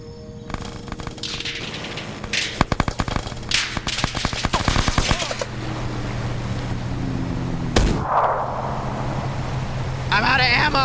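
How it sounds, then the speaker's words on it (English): A minigun fires in a multiplayer shooter match on the Kamino firing range map, in loud, rapid, crackling bursts that come in several clusters, with sharp impacts between them and voices at moments. "Now they're hitting with the minigun."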